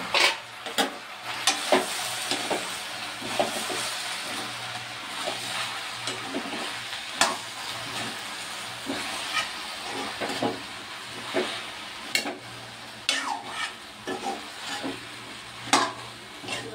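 Taro and Malabar spinach sizzle in hot oil in a home kitchen, with a steady frying hiss broken by repeated scraping stirs and clinks of the spatula at an uneven rhythm, close by and with no talk.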